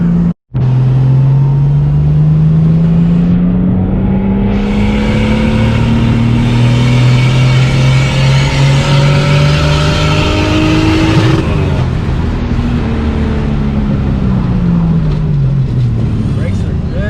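RB-swapped Datsun 240Z running on 5 pounds of boost, engine revving loudly and continuously while driving, pitch climbing through the gears with a shift dip midway, close and dominant throughout.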